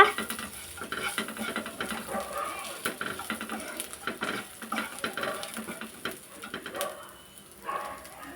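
Tomato-free chutney with asafoetida being stirred in a pan, giving a steady scraping and soft sizzling texture throughout, while a pigeon coos faintly in the background.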